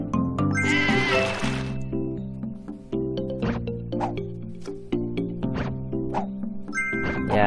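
Repeated cartoonish sheep bleats in a steady sequence in the game Divide By Sheep, with light squishy game effects and a music-like tonal bed underneath.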